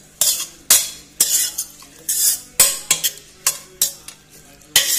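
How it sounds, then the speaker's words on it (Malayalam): Spinach and mango aviyal being stirred and mixed in a pan, a steady run of about a dozen distinct scraping, clinking spoon strokes against the vessel, close and crisp, with no talking. "ഇളക്കി യോജിപ്പിക്കുക."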